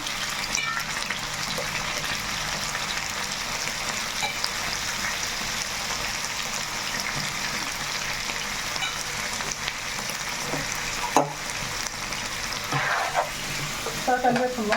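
Large chicken pieces fry in a pan with a continuous, dense crackling hiss like heavy rain, steady and close, with a couple of sharp clicks partway through.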